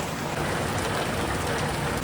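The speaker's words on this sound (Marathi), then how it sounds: "इथे पाऊस जास्त आहे" Heavy rain pours down in a steady, dense wash of noise that stays constant throughout, close and loud, with no talking.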